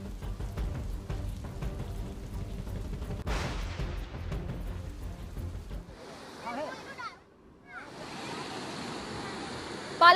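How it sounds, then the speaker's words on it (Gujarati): Kaledi river near Amirgadh running full bank to bank after rainfall, a steady broadband rush of flowing water that continues throughout, with a brief quieter dip partway through before the roar returns. "અમીરગઢની કલેડી નદી બે કાંઠે વહેતી થઈ"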